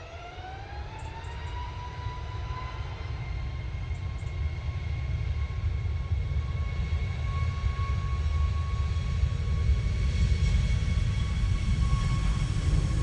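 An Aer Lingus airliner landing at Manchester Airport in wet, windy weather: a sustained deep engine roar with a rising, then steady, high whine that grows slightly louder throughout.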